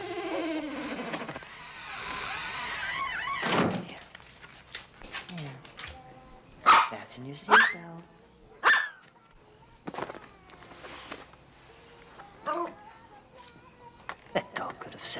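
Dog barks in sharp, separate bursts mid-scene amid film dialogue and music in a 1988 comedy, several loud yelps standing out over the talk.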